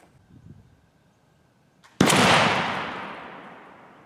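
A flintlock gun fires outdoors during turkey hunting preparation: a faint click of the lock, then a single loud blast that rings out and decays over about two seconds.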